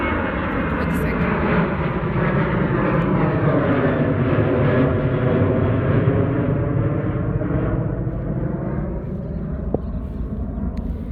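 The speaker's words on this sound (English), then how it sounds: "There's a plane coming, so I'm just going to pause for a quick second." An airplane passes overhead, a loud, steady broadband engine roar that fills the whole stretch and slowly shifts in pitch as it flies by, with no talking over it.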